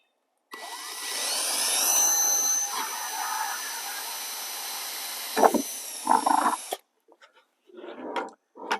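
A power drill bores a drainage hole through a plastic bucket, a steady whirring buzz running for about six seconds, then a few short bursts as the bit finishes and pulls free, followed by brief handling noises.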